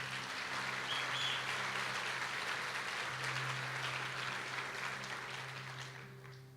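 Congregation applause during a church sermon, a dense, steady wash of clapping that fills the hall, holds for several seconds and then slowly fades toward the end.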